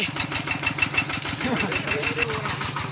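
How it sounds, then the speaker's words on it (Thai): A steady tractor engine rumble runs throughout with regular low knocking pulses, fairly close and loud, with voices talking over it. "ขี่รถไถ"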